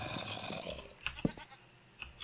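A goat in Minecraft lets out short bleats, faint and intermittent over soft game ambience.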